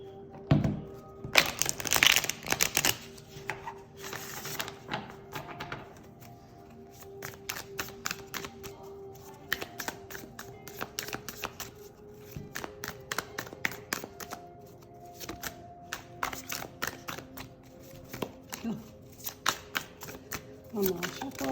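Rapid crisp riffling of tarot cards in repeated bursts, with brief pauses between shuffles and a hum in the background; no talking.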